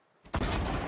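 A gunshot in the video game Fortnite: after a brief faint lead-in, one loud, sharp blast goes off and trails into a dense rumbling decay.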